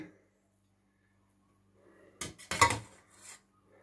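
Cooked rice is served from a pot onto a dish in a home kitchen, giving a short cluster of close scraping and clinking of a utensil against metal and crockery after a quiet pause.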